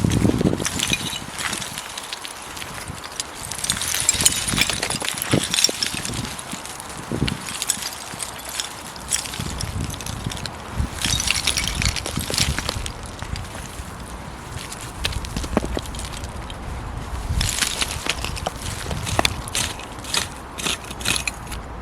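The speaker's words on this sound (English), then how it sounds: "I'm just going to have a dig away at this bank side now." A spade or tool digging into an ash pile on a bank side at a construction site, with steady scraping, crunching and clinking of debris, loud, close and continuous, with no talking.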